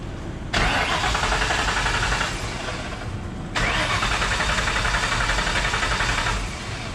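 A Coyote-swapped 1985 Mustang GT engine cranks over in two long, steady bursts with a brief pause between them, loud and close, the starter churning without the engine catching.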